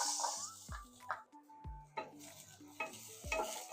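Sliced onions sizzle in oil in a kawali for pork giniling, with a spatula scraping and knocking against the pan in a few distinct clanks over a low, steady fry.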